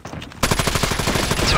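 Rapid automatic weapon fire in a shooting video game, a loud continuous burst of closely spaced shots erupting after a brief quieter moment and hammering on without pause.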